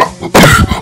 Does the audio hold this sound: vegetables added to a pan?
no